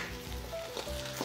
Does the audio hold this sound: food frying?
yes